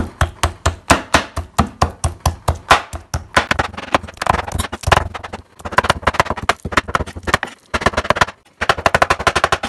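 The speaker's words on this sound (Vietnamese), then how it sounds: "tôm sau khi mà rửa sạch, bỏ chỉ đen, mình bầm ha." Cleaned, deveined shrimp are minced with a knife on a cutting board, with rapid, loud, close chopping strokes in steady bursts and short pauses between runs.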